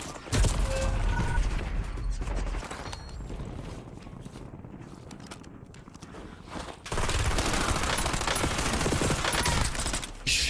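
Dense, rapid gunfire in a shooter video game, with bursts of automatic shots and impacts rattling loudly almost throughout, dipping to a quieter stretch midway before the heavy firing returns.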